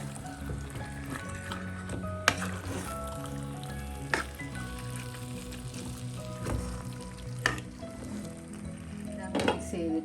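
Marinated chicken is stirred into sizzling spinach masala for a palak chicken curry, making continuous frying sizzle with sharp clattering stirs every couple of seconds and faint background noise.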